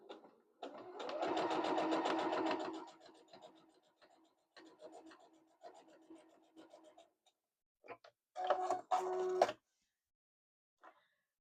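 Sewing machine stitching a quilted pouch, running in a steady buzzing burst of about two seconds, followed by softer intermittent stitching and then two short, louder runs near the end.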